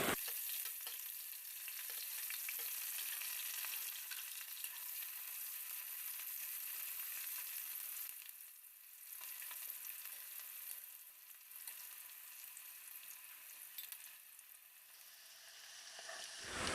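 Chicken frying in a pan with onion and green chili: a steady, close sizzle and hiss throughout, with softer patches where the ingredients are stirred and no voices.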